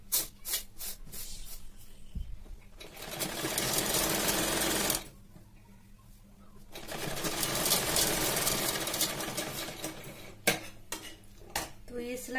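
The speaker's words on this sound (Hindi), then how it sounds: "तो अपन इसमें सिलाई करेंगे।" A sewing machine stitches blouse fabric in two long, steady runs, with quieter clicks and handling noise in the pauses between them.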